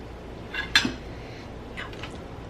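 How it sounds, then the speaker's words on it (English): Utensils clink against a bowl or pan while sweet potatoes are mashed with soy milk and spices, a few light, fairly close metallic taps and scrapes in a quiet kitchen. "I'm going to put them in here, mash them up, add soy milk and spices"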